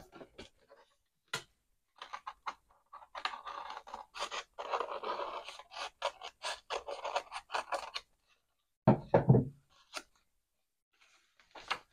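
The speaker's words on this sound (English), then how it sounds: "So I'm just going to roughly cut this out." Scissors roughly snip around a small paper piece for a handmade accordion-fold mini album, giving clusters of close, crisp cuts and rustles with brief pauses, then a louder paper handling rustle near the end.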